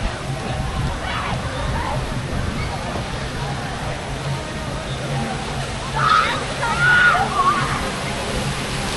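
Water spouts from the mouth and head of a tiki statue fountain at an amusement park, a steady splashing wash that runs throughout, with people talking over it toward the end.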